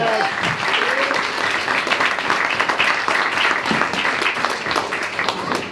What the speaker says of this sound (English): give yourself a massive round of applause for turning up on a pissy wet Wednesday evening in Darwen.